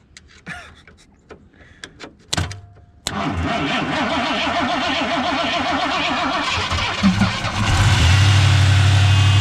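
A long-stored Foxbody car engine cranks after a few clicks, catches and runs at a steady, loud high idle with a throbbing exhaust, rising slightly near the end.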